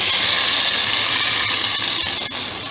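A steady, loud hiss fills the clip as hot oil tempering hits kadhi pakora curry, with a few small crackles and no talking.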